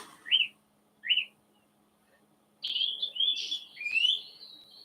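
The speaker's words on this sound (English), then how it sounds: "You hear that? Song thrush at the top of the tree there." A song thrush sings from a treetop, picked up at a distance through a parabolic microphone: two short separate phrases, then a longer run of clear, varied whistled notes, with no talking.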